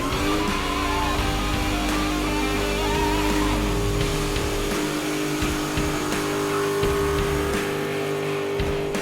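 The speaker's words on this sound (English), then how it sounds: "Every 100 feet, somebody is wetting down the street, hoping for a burnout." A car on a wetted street at a muscle car cruise sits on loud, sustained engine revving with a rough exhaust roar, wavering pitch and possible tire noise. The sound is close and lasts throughout, with no talking.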